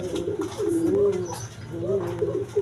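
Large pigeons coo in a breeding loft, low rolling throaty coos close by, one drawn-out call followed by another after a short pause.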